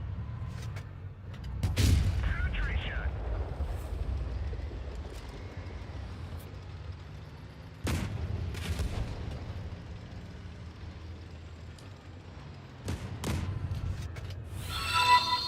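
A tank gun fires high-explosive shells in World of Tanks Blitz: three heavy, booming shots spaced several seconds apart, each with a sharp crack and a rumbling tail, over quiet engine ambience.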